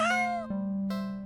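A cat meows twice in the video game Do NOT Take This Cat Home, clear tonal cries close up, the second drawn out and steady after a brief break.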